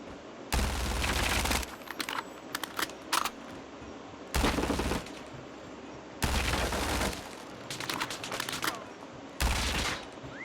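Automatic gunfire from an MP67 in Call of Duty Mobile prop hunt: four loud sustained bursts of rapid fire, with scattered single shots and clicks between them.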